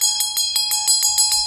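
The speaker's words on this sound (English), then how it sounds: "with our beautiful divine bells chiming so that the whole beautiful divine world can hear us" A Tibetan bell chimes in a steady repeated rhythm, about nine bright metallic strikes in under two seconds, each ringing with sustained high overtones, close and clear with no voices.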